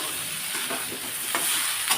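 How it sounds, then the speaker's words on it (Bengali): Potatoes and moringa drumsticks fry in hot oil with a steady sizzle while a utensil stirs them in several scraping strokes, close up and with no voices. "আলুগুলো একটু ভাজা ভাজা হয়ে গেছে সজনে ডাটা আলু"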